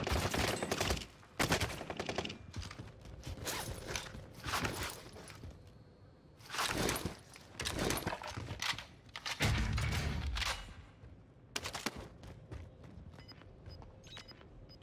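Gunfire from a CW MP5 submachine gun in the Warzone video game on Rebirth Island comes in rapid, loud bursts with short pauses and a quieter stretch between them, and game sound effects can be heard around the shots.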